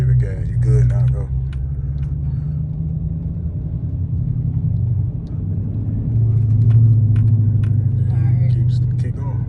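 A manual Dodge Challenger pulls away from a clutch release, its engine rumbling low and steady throughout, swelling slightly as it gains speed, heard from inside the car with people talking over it.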